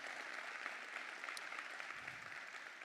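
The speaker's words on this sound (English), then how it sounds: "I invite you to join me in giving them a big round of applause." An audience at an industry event with partners applauds, a steady sustained wash of many hands clapping, fairly distant and even throughout.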